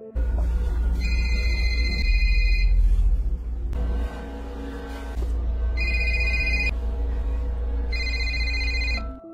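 A mobile phone ringtone rings from a bedroom, repeating in loud electronic bursts over a deep sustained tone, with short gaps between the ring phrases.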